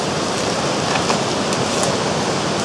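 A wilderness creek, East Fork Dickey Creek near Essex, Montana, rushes steadily up close as a dense, even broadband hiss with no pauses and no voices.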